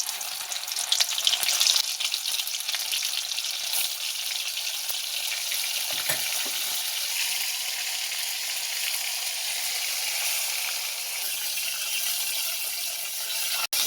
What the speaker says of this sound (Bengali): এবার মাছটা আমি একটা একটা করে তেলে দিয়ে দেবো।